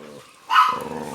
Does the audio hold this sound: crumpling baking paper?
no